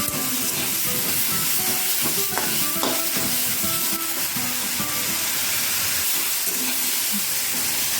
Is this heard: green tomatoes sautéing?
yes